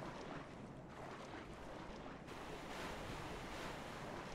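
Water in the video game Dark Souls III gives a steady, rushing wash like surf breaking, filling the whole stretch at an even level with no voices.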